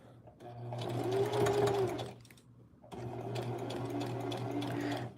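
A sewing machine stitches the hem of thick jeans in two bursts of fast, loud mechanical whirring. A short pause and a soft whine separate the bursts, and there is no talking.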